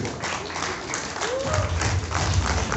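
An audience claps at a World Gin Day 2022 celebration held by Ginebra San Miguel, a steady, moderately loud applause with a brief voice and faint murmurs mixed in.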